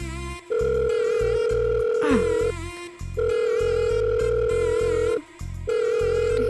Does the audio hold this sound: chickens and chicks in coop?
no